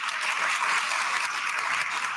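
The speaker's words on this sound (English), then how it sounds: "I'd like if everyone could please give a round of applause for them" An audience at a startup event's closing keynote claps in sustained, even applause, a dense wash of many hands at moderate distance.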